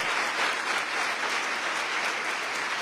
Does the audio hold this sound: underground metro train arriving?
no